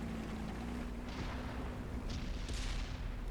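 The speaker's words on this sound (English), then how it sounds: "We've got already artillery shooting at us, which is a big no-no." Artillery fire in the tank game World of Tanks on Xbox One, heard as a few muffled distant booms over a constant low engine rumble, with no talking.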